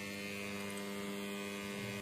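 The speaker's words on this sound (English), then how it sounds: "let me use it to power this electric motor" A small electric motor runs on a test power setup, giving a steady even hum with strong tonal buzz that holds unchanged throughout, close and continuous with no talk.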